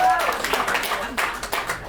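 A live audience claps at an awareness event at The Carleton, a short round of scattered applause with a voice speaking over it.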